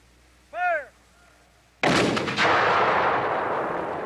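A Civil War cannon fires once at a Gettysburg re-enactment: a single loud, sharp blast that rolls out into a long, fading rumble, preceded by a brief shouted voice.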